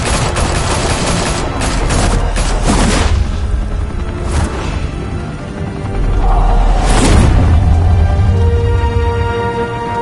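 Loud, dense volleys of gunfire in the Telltale Batman game, rapid overlapping shots with booming impacts and whooshes, easing briefly midway before swelling again with heavy low rumbling.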